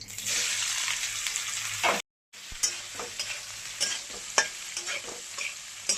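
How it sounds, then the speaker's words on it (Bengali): Soybean chunks fry in hot oil left from frying potatoes, with a loud, steady sizzle at first, a brief cut, then quieter frying punctuated by repeated scraping and knocking of a spatula stirring in the pan. "আলু ভাজার তেলেই আমি সয়াবিনটা ভেজে নিচ্ছি।"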